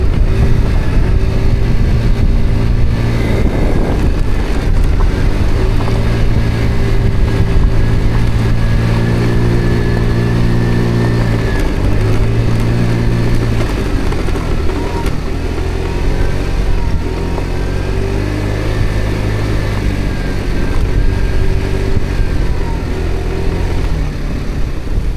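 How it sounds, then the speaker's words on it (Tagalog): A motorcycle rides off-road on a rough track in Hobro, Denmark, its engine droning steadily and loudly throughout with shifting pitch and continuous wind and rumble. "Kaya rin pala ng motor na to dito."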